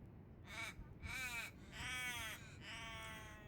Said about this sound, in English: The crow.